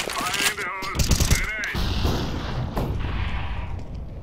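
Flashbang grenade thrown during a CS:GO match, a sharp metallic clatter and burst amid game gunfire and effects, with a voice talking over the busy battle noise.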